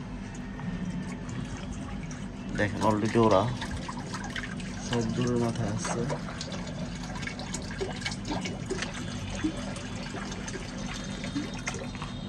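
Water is poured out for pigeons, a quiet trickling and splashing beneath a person talking, set against a faint, steady outdoor background.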